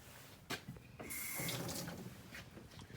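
Tap water runs into a sink while sea glass is washed, a soft steady splashing stream with a few brief clatters and surges as items move under the flow, fairly quiet and close with no speech.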